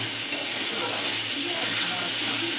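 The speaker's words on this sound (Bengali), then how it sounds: "মশলাটা আমার কষানো হয়ে গেছে, তো অল্প একটুখানি জল দেবো" Water poured into a pan of fried spice paste brings up a loud, steady sizzle and hiss that holds for the whole stretch, close by.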